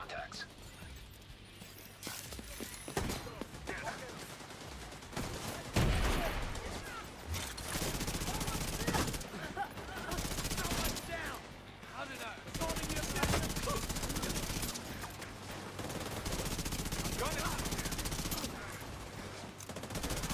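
Suppressing gunfire in the video game The Division 2, sustained bursts of automatic fire crackling nearly continuously across the whole stretch, mixed with game voice callouts and other battle noise.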